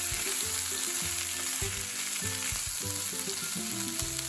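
Beans and corn sizzle steadily in a hot oiled skillet while a utensil stirs through the succotash, scraping and clattering in irregular bursts over a continuous frying hiss, close and with no talking.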